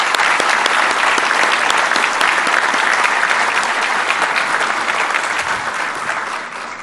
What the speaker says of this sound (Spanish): nos recibo con un fuerte aplauso a todas nuestras autoridades aquí presentes